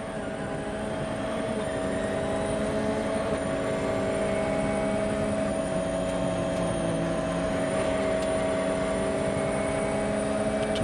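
A helicopter filming the Monte Carlo Rally drones steadily overhead, its engine hum and rotor noise constant and fairly loud throughout.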